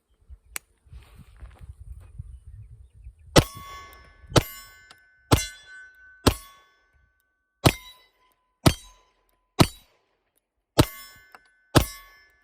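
Springfield Armory Ronin 1911 government-size 9mm pistol fired outdoors in ten sharp, loud shots at a steady pace of about one per second, each cracking and decaying quickly, after a brief click and some faint handling.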